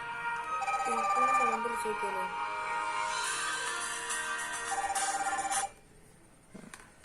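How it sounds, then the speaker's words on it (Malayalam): A ringtone on an HW12/HW22/HW16 smartwatch plays a repeating melodic pattern for several seconds, then cuts off abruptly, followed by a faint click. "ഫോണിൽ നമുക്കൊരു റിംഗ് ടൂണ് കാണാൻ പറ്റും"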